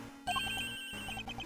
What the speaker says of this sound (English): That's a cell phone.